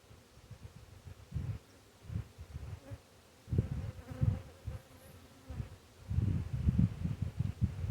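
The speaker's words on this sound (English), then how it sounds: "Oh, these bees are getting mad now." Dense, angry buzzing of many agitated honey bees swarming close by during a hive inspection, surging louder in waves with rustling underneath.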